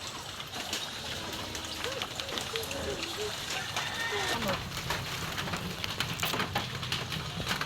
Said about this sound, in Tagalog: Dito po yung ulan ay wala ng tigil.